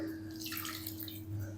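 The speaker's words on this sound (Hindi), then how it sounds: "अब हम ना इसके अंदर तकरीबन 1 कप पानी और शामिल करेंगे," Roughly a cup of water being poured into a semolina mixture with potato and leftover rice for crispy snacks, a close, steady trickling splash that runs alone without talk.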